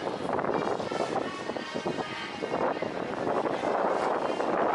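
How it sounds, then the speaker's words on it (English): Strong Hurricane Matthew wind gusts buffet the microphone at Walt Disney World in a continuous roar, rising and falling slightly without pause. "The wind is picking up."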